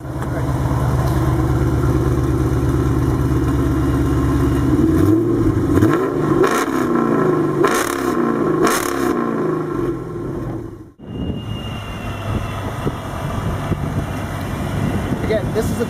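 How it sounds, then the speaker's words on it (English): A 2006 Chrysler 300 SRT8 exhaust rumbles at idle, then revs several times with rising and falling roars before dropping back, loud and close outdoors. "Let me show you what the exhaust sounds like."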